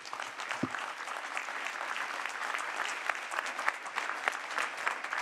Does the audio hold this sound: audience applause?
yes